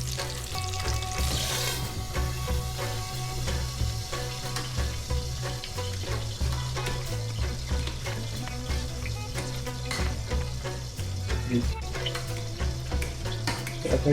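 Smoked sausages frying in a pan beside Taiwanese spinach and mashed potato, a loud, continuous close sizzle with a low steady hum underneath and occasional light utensil taps.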